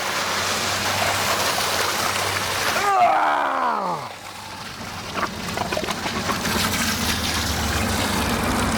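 Clean potable water pours from a hydrant in a steady, loud broadband rush. A brief low groaning tone sweeps through near the middle, and the flow carries on afterward.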